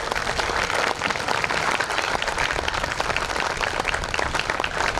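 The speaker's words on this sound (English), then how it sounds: "You can clap at this point." An audience at a Juneteenth freedom celebration breaks into dense, sustained applause, many hands clapping together evenly and close by for several seconds.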